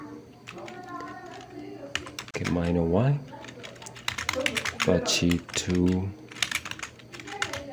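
Fast typing of terminal commands on a computer keyboard, with dense clusters of crisp key clicks under and between a man's speech.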